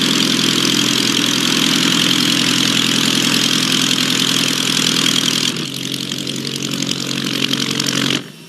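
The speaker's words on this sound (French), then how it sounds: "le Volksplane, équipé d'un moteur Continental de 75 chevaux, reçoit l'autorisation de son premier vol d'essai" The Continental 75 hp engine of a homebuilt Volksplane aircraft runs close and loud in a continuous, steady drone that drops slightly in pitch near the end before cutting off.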